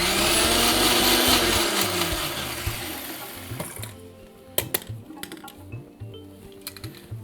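A kitchen grinder whirs loudly, crushing chutney coarsely for several seconds, then cuts off, leaving scattered clicks and knocks as the jar is handled.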